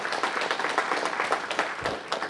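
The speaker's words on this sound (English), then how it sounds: "Everyone, please give them a round of applause." City council meeting audience clapping after a Pledge of Allegiance group, loud close-up hand claps in an uneven, busy rhythm with a low thump near the end.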